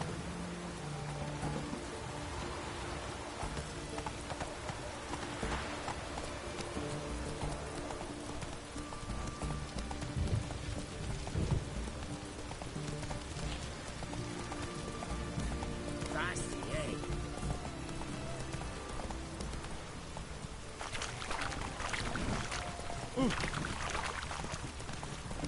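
Roach the horse clip-clops through rain in a video game, hoofbeats moderately close under a constant hiss of rainfall, with someone talking over it.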